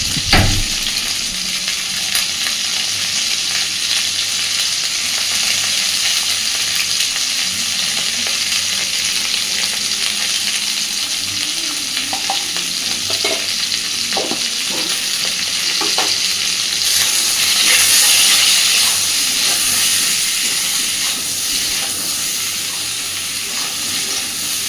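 Spices with turmeric fry in oil for a light fish curry with yam, a continuous close sizzling hiss with occasional stirring knocks, steady and unbroken for over twenty seconds.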